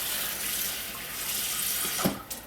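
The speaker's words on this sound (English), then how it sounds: "Add some water to it." Water pours into a pan on a stove that holds leftover pot roast juices, a steady rushing stream close by that stops abruptly near the end with a small clunk.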